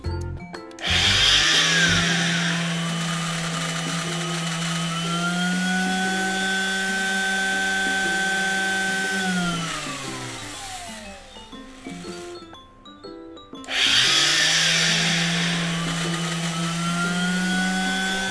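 A US-made electric drill is switched on for a function test: its motor whines up to a steady, loud hum, winds down, then starts again and runs up once more. No voices.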